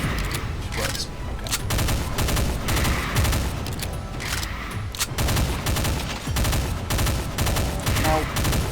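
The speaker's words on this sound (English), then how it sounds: "see the burst fire on the rifle" A rifle in Doom 2, played with a Technicolor mod, fires in repeated rapid bursts. The sharp, loud volleys come one after another with short gaps, mixed with other game combat noise.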